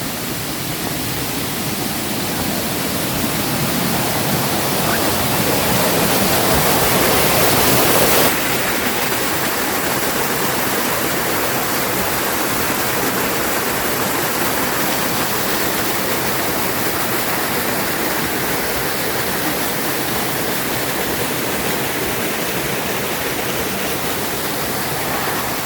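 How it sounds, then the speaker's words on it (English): A big waterfall and rushing stream swollen with lots of water after heavy flow, a loud, steady broadband roar that fills the whole stretch without pause, with no voices over it. "if you hear a lot of noise from the stream"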